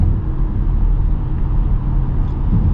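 A 2026 Jeep Cherokee Laredo hybrid engine holds a steady, elevated RPM, a loud continuous low rumble with road noise and no voices, unchanging throughout.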